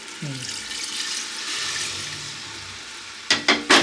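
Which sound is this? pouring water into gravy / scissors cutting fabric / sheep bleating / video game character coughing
pouring water into gravy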